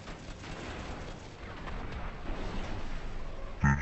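A sticky bomb goes off in the video game GTA V: a rumbling, roaring din of game noise builds steadily, then a sharp, loud blast bursts out right at the end.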